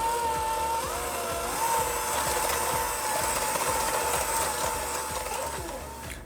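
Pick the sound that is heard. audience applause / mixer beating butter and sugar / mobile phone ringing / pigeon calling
mixer beating butter and sugar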